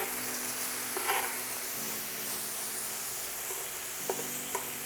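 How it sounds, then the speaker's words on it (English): Garlic butter steak bites sear in a stovetop pan with a dense, steady sizzle while the pieces are pushed and turned, giving a few brief clattering scrapes; no voices. "we're gonna get these bad babies moved around"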